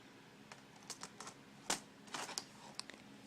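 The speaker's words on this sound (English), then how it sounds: "Now all you do is just lift up on the keyboard and pull it forward." Toshiba laptop keyboard being lifted and pulled forward out of the chassis, giving a quiet string of small plastic clicks and taps with a sharper snap midway.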